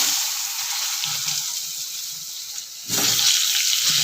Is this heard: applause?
no